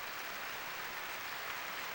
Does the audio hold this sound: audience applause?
yes